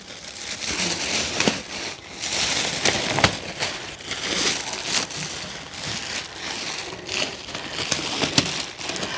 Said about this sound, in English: I'm not really chuffed about the plastic bag, so let's go ahead and open that